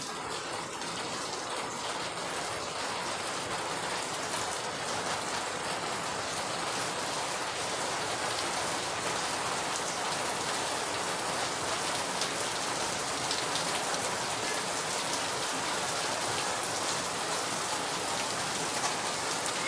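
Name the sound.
rain falling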